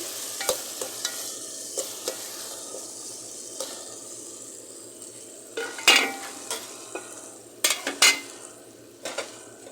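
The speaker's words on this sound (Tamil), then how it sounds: "டமோட்டாவும் நல்லா வதங்கிருச்சு" Tomatoes sauté in a pan for a vegetable kuzhambu, a steady close sizzle running throughout with occasional sharp scrapes and taps of a spoon stirring against the metal.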